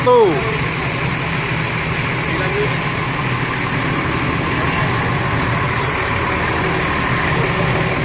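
Nine buses idle together in a crowded Rosalia Indah bus parking lot in Palembang, giving a steady, even engine drone with a low throb throughout, and voices sound faintly in the background.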